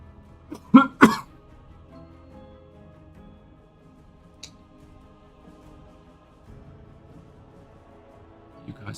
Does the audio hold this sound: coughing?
yes